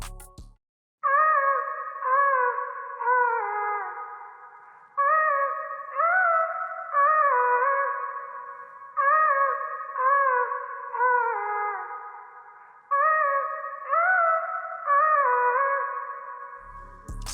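A downloaded vocal sample layered over a guitar loop beat plays as a sustained, harmonically rich tone in four repeating phrases, each swelling in and decaying before the next, loud and clear with no talking.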